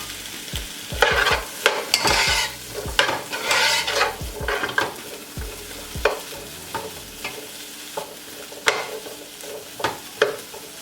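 Peppers and mushrooms sautéing in a pan, loud close sizzling with frequent spatula scrapes and taps in uneven bursts, with no talking.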